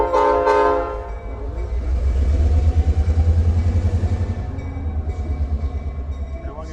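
A Lehigh Gorge Scenic Railway train heard from inside its caboose: a loud horn blast at the start, then heavy low rumbling and rhythmic clatter of the rolling cars building steadily, with faint voices now and then.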